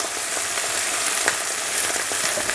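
Bits of scrambled egg go back into a hot pan of chicken fried rice with green onion, giving a bright, steady sizzle with small crackles and light stirring scrapes, close and loud, with no talking.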